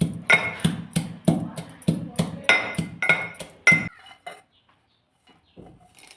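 Green chillies pounded in a mortar: about ten sharp, evenly spaced thuds in a steady rhythm, close and fairly loud, then stopping, followed by a few faint knocks and near silence.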